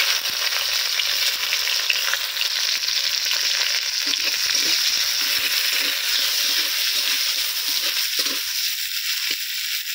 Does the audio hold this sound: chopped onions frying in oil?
yes